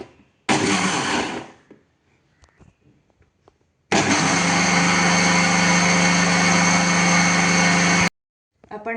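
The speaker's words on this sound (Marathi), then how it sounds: "आता आपण हे सगळं व्यवस्थित मिक्सरला फिरवून घेऊया" Mixer blender whirring through a saffron milk drink, a loud steady motor roar running about four seconds after a shorter earlier burst, with quiet gaps between.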